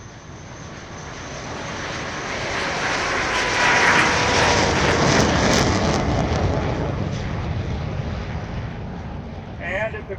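A Soviet MiG-17 jet fighter flies at the Oshkosh airshow, its engine roaring in a broad, steady rush that swells to a peak around the middle and then slowly fades, with a brief voice at the end.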